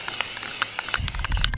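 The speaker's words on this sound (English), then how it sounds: "Just when you think you're done with spray painting," Aerosol spray paint sprays onto a Traxxas RC truck body in short hissing bursts, close by, with faint clicking of the nozzle between spurts.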